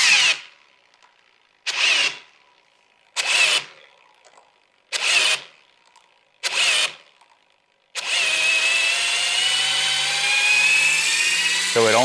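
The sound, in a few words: power tool loosening over-torqued wheel lug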